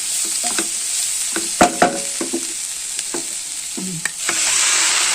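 Chicken and masala for a homestyle Kerala chicken curry stirred and frying in a pan, with a steady sizzle broken by several distinct scraping and clanking stirring strokes, close and fairly loud, no talking.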